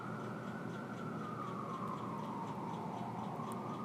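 A distant police siren wails steadily, its pitch slowly gliding downward, with faint ticking and traffic hum underneath.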